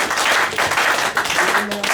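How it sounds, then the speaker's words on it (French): Applause for Jesus rises from a church convention congregation, a dense continuous wash of clapping filling the whole moment at steady loudness, with faint voices mingled in. "Applaudissons pour Jésus."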